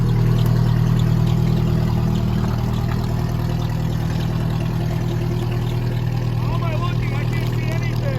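A 1986 Toyota Tercel 4WD engine runs at a steady, loud idle with a throbbing low hum that holds throughout, with a faint voice in the background.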